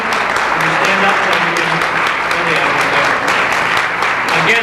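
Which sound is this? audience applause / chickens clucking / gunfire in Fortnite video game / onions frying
audience applause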